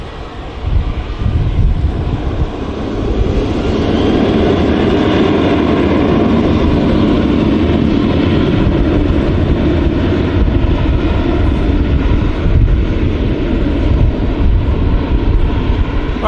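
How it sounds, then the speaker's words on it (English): A Ryanair Boeing 737-800 jet departs Manchester Airport. Its engines swell into a loud, broad, sustained roar that holds steady to the end. "Ryanair 737-800 departing."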